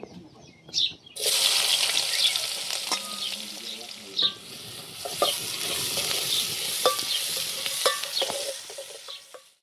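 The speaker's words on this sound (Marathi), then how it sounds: "कांदा चांगला तळून घेतला" Onion dropped into hot oil bursts into a loud sizzle after a brief quiet start, then keeps frying steadily with frequent stirring scrapes and clinks of a spoon against the pan.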